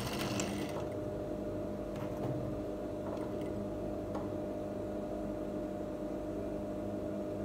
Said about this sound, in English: So I return the machine to normal sewing.